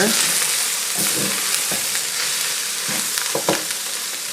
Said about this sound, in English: Now that we've got all that stuff in there, give it a good stir.